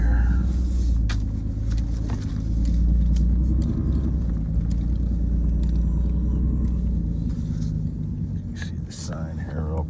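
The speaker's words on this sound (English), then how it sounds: "I'll just drive ahead a little bit here." A car creeps slowly forward in a yard, its engine a low steady rumble close by, with faint clicks and rustles over the idle.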